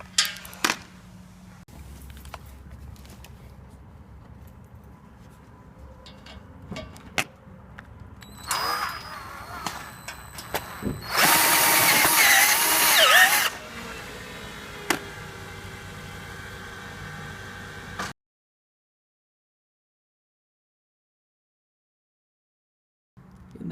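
A power drill drives self-tapping screws into a Lifetime basketball system, model 90631, in short bursts, the loudest a sustained whirring run of a couple of seconds, with quieter handling clatter before and silence after.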